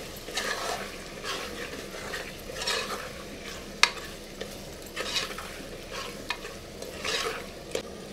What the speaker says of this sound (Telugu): టమాటాలు కూడా బాగా మగ్గించేద్దామండి.